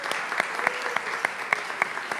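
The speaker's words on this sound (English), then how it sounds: "So please can we also have a warm round of applause for him as well." Audience applause at a student-organised pharmacy conference, a steady moderate patter of many hands clapping together, continuous and fairly close, with no voices above it.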